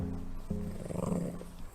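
A dog gives a short, low, rumbling growl at close range, faint and brief, with no talking over it.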